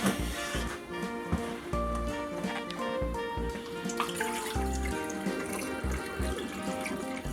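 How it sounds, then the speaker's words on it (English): Homemade kombucha pouring from a measuring cup through a funnel into airtight bottles, a continuous close liquid trickle and splash with small clinks, no talking. "I just use the funnel and the measuring cup to fill up these bottles"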